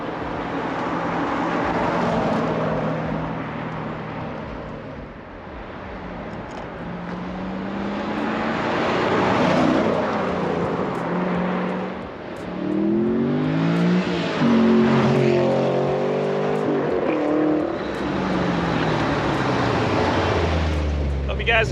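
A 2014 Chevrolet Camaro Z28 with an LS7 427 V8 on a test drive around Fort Lauderdale, its engine droning loud and steady throughout, with rising revs and gear changes near the middle and some voices under it.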